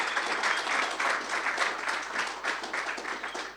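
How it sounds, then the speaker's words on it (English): An audience at a science forum gives a round of applause, a moderately loud burst of many hands clapping in uneven pulses throughout, with no speech over it. "I ask you to have a round of applause."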